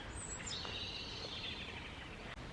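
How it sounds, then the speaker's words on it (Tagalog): Faint, high bird calls chirp over a steady outdoor hush, a thin sustained tone drifting in the background. "Naririnig nyo ba yung mga ibon?"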